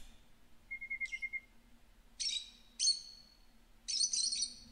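A caged cardinal in the Virginia video game gives a short thin whistle, then three bright bursts of chirping at moderate loudness over a low background hum, with no talking.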